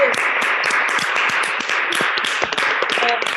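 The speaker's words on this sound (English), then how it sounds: "A big round of applause." A school awards ceremony audience breaks into applause, many hands clapping in a loud, dense, sustained patter with a few sharper individual claps standing out.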